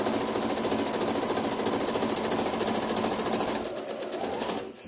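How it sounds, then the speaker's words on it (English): A sewing machine stitches four layers of cotton face mask fabric together in a fast continuous mechanical whir. It runs loud and steady, then slows and stops just before the end. "I'm sewing all 4 layers together"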